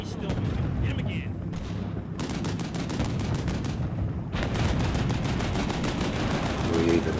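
Sustained gunfire from the Cold War tactics game Combat Mission Cold War, set at NTC in 1982, with rapid bursts of automatic fire and booming shots in a dense, continuous barrage.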